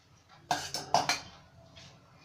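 A spoon stirs carrot-beetroot juice mixed with lemon juice and a spice powder, giving four quick, sharp clinks against the container followed by faint scraping.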